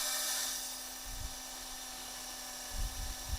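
A cheap AliExpress combined drill-tap bit turns in a power drill, a steady high motor whine with a constant hum, interrupted by a few low grinding bursts as the dull bit bites the workpiece.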